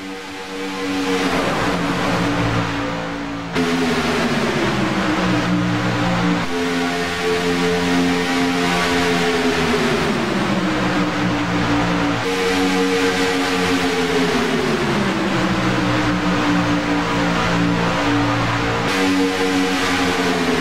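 NASCAR stock cars race in a pack at Daytona, a loud, continuous engine roar with steady harmonic whine that rises and falls as cars run side by side on the banking, with no voices.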